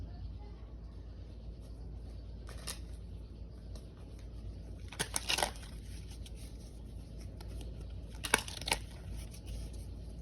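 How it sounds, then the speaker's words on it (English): Faint, quiet rustles and a few brief bursts of cards being shuffled and riffled, over a low steady background hum. "I hate when I don't shuffle the cards right."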